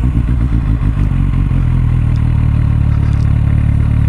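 A Suzuki Bandit 650 motorcycle engine loping at low RPM, loud and close, with a pulsing beat that steadies into an even drone.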